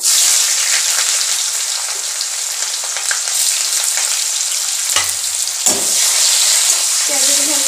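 Onions sizzle loudly in hot oil in a wok, a dense continuous frying hiss with brief scraping stirs near the end, close and alone without talk.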